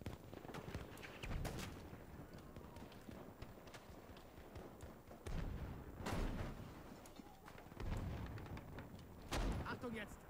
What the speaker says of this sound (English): No, no, he's still shooting